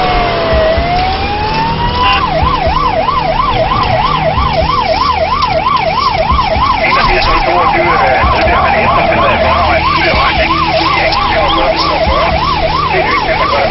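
An unmarked Danish police car races with its emergency siren wailing in a fast, steady up-and-down pattern, loud and close over engine and road noise for the whole stretch.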